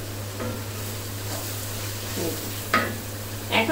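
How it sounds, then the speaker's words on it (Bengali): Spices and yogurt being stirred and fried for chicken pulao, a steady close sizzle beneath occasional spoon scrapes against the pot, with a low mains hum throughout. "এখন এটা ভালো মতন কষিয়ে নিতে হবে।"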